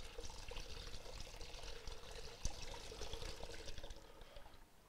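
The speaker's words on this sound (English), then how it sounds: "Just gonna pour it through the strainer." Beef stock for French onion soup is poured through a strainer, a faint steady splashing trickle of liquid with a small clink partway through.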